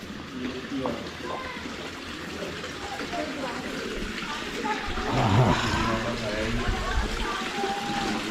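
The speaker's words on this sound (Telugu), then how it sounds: "మంచి వాటర్ ఏదో వస్తుంది ఇక్కడ." Fresh spring water from the hills flows steadily through a fountain at a wooden palace in Kashmir, a continuous watery rush running under a voice talking throughout.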